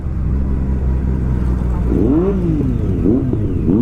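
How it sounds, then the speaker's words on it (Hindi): A Triumph inline-3 superbike rides among other superbikes on a hill road, its engine a loud, close, steady rumble with rising and falling revs, over wind noise. "और ये सुपर बाइक की आवाज़, in line 4, in line 3, that's Triumph in line 3, आगे इन लाइन 4"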